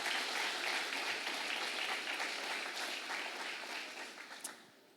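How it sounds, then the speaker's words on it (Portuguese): A church congregation applauding at a worship service: dense, steady clapping from a large crowd that fills the space and fades slightly toward the end, with no speech over it. "Pode aplaudir o Senhor Jesus."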